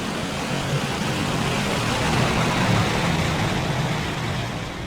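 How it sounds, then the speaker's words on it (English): Concorde jet engines spooling up to full throttle with afterburners lighting for takeoff in the Aerofly FS4 flight simulator, a steady loud broadband roar that swells slightly midway and holds without a break. "You hear the engine spool up and the afterburners will light."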